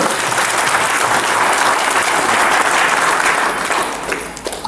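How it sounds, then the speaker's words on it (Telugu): A large audience at an anniversary celebration at Ramoji Film City breaks into loud, dense applause that holds strong for several seconds before tapering slightly at the end. "గట్టిగా చప్పట్లు"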